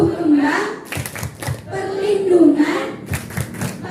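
Children clap together in time with a rhythmic chant at a children's forum, several sharp group claps in short bursts mixed with voices calling out the chant.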